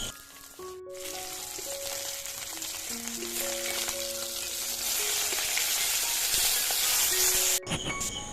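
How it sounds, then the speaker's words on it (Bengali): Fish pieces frying in oil give a steady, close sizzle and crackle that builds in intensity, with faint tonal background music layered underneath. "সমস্ত মাছটা ভেজে নেব"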